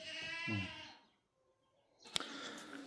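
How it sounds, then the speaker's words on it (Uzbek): A goat gives one close, loud, wavering bleat, followed by a brief quiet gap and then a sharp knock and some rustling movement. "mana yana echkilari"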